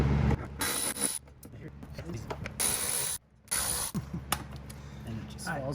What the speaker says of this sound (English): you can use that ratchet to take them all the way off